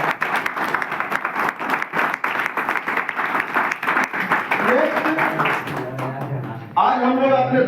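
An audience bursts into sustained, dense clapping after a soap demonstration, then the applause fades as a voice begins speaking.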